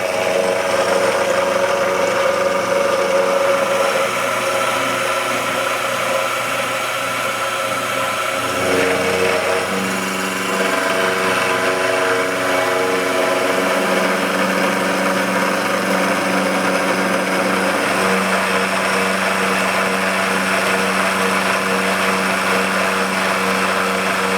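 A milling machine roughs material off the face of a mount plate, giving a steady, loud, continuous grinding whine with a layer of high hiss that dips briefly near the middle before running on.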